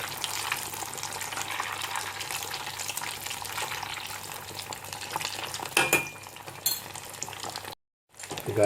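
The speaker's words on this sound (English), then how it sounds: "I'm frying it on medium heat. So let it fry for like a minute or so" Pinwheel samosas sizzle and crackle steadily in hot oil on medium heat for several seconds, with a couple of brief clatters near the end and a sudden cut to silence.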